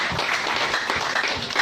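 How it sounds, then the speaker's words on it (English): A church congregation at a Friday service claps together in a brief, dense burst of many hands, loud and close, with no talking over it. "If you are happy with this testimony, clap for Jesus."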